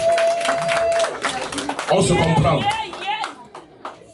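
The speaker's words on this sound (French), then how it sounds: "On applaudit pour le secrétaire général." Applause for the general secretary at a 50th birthday celebration, a burst of clapping rising under a speaker's voice over a couple of seconds before fading as talk continues.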